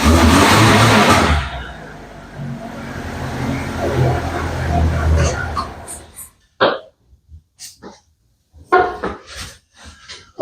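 A car engine without a choke roars loudly at high revs, then drops to a lower running drone for a few seconds before cutting out, followed by scattered brief clunks and knocks nearby.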